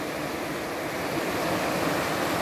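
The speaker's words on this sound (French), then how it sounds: "Voilà, petite cascade." Steady rushing water fills the whole clip, a continuous broadband roar like a small waterfall close by, with no voices.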